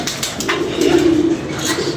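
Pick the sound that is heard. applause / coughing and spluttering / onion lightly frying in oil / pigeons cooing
pigeons cooing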